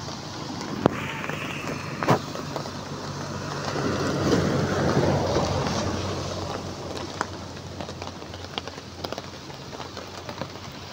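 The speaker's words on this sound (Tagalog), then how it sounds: "ang lakas ng hangin. Ang lakas ng ulan" Strong storm wind roars and gusts over a steady wash of heavy rain on the Maharlika Highway, swelling in the middle, with occasional sharp knocks and thumps.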